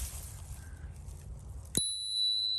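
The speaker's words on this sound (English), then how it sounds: "Got a nice brass bell." A single bright ding of a brass bicycle bell on a mountain bike, sharp strike followed by a clear ringing tone that sustains and slowly fades.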